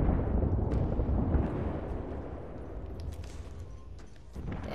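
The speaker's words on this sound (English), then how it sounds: "They escaped my bombs as is." A deep, rumbling wash of airstrike bombs exploding in Apex Legends fills the space, a heavy sustained roar that slowly fades and swells again with faint crackles on top.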